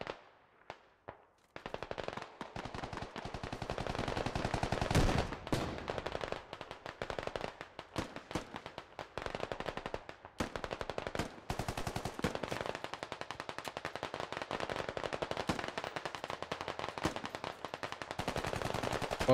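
Sustained machine gun fire in the video game SquadOps, long rapid bursts of automatic shots with short breaks between them, loud and continuous for most of the stretch after a quiet opening.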